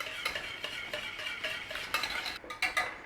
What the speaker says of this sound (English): In with your sugar. Stir that in so it dissolves.